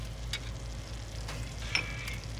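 Something melts on a hot grill with a soft, continuous sizzle and brief crackles, close and fairly quiet, with no one speaking.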